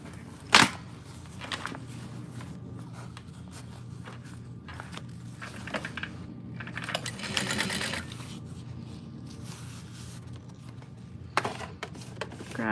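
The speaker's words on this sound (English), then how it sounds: "So I'm gonna go ahead and sew this shut." Sewing machine stitching a fabric tote bag closed, a steady mechanical whir running through most of the stretch with brief pauses and a few clicks and handling knocks.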